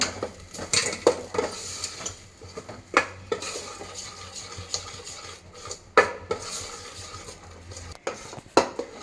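A spoon scrapes and stirs poppy seeds, coconut and rice roasting in a metal pan, repeated irregular clinks and scrapes close up, with a faint low sizzle underneath.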